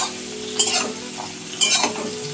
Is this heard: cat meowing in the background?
no